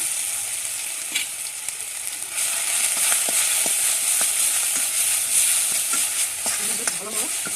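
Onion and ginger paste frying in hot oil with mustard seeds gives a loud, steady close sizzle, with scattered spatters and pops and occasional stirring scrapes.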